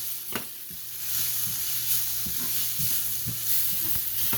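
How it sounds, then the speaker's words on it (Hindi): Vegetable sandwich filling with an egg fries in a pan under continuous stirring, a constant sizzle with regular soft spoon scrapes every half second or so, close and alone with no speech. "इसमें 1 एग डाल रही हूँ, और इसको फ़ौरन मिक्स कर देना, चम्मच रोकना नहीं"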